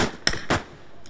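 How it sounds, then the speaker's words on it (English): An AT4 rocket launcher firing in a military exercise, heard as two sharp, loud bangs about a quarter second apart followed by a brief fading rumble. "I'm firing AT4."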